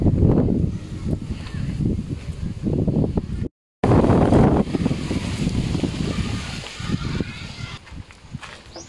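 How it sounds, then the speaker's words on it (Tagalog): Strong wind by the sea during a typhoon buffets the microphone in heavy, rumbling gusts, loud and close, broken by a brief moment of silence partway through. "sobrang lakas yung hangin kasi nasa dagat nga"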